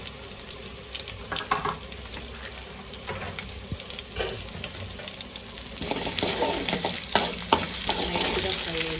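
Garlic with dried red chillies and tempering seeds frying in hot oil, a steady close sizzle broken by scraping stirs and clinks, growing louder and busier toward the end.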